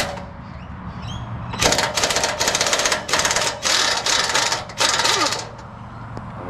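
A power tool, likely an impact wrench, rattles bolts out of a tow hitch on a vehicle in Australia. Loud, close, chattering bursts come in several runs separated by brief pauses, over steady background noise.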